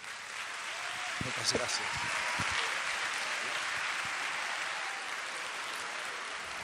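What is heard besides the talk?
audience applause for Enric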